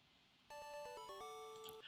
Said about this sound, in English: That's my Fallout notification.